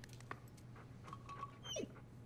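In the video game Uncharted 4, a dog gives soft, faint whimpers and short whines over a low steady hum, ending in a slightly louder whine.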